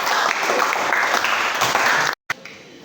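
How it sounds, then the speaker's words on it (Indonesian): A classroom group claps for the first discussion group, a dense steady patter of many hands that runs for about two seconds, breaks off sharply, then resumes briefly. "tepuk tangan untuk kelompok 1"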